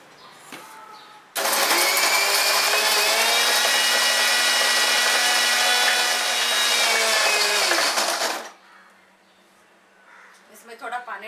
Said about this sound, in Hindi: इसे हम मिक्सी में पीस लेते हैं.